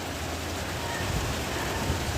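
Rain falling over a village, a steady, close hiss of drops with a low rumble underneath that holds evenly for the whole stretch, with no voices.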